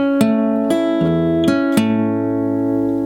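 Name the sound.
rockabilly fingerstyle guitar measure played with palm mute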